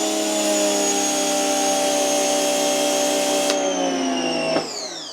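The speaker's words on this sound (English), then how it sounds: "the Giraffe pressure washer working the Karcher gun" A Giraffe Grandfalls pressure washer runs with a Karcher spray gun attached, giving a loud, steady motor whine with a constant pitch that shifts twice before the trigger is released and the sound drops away.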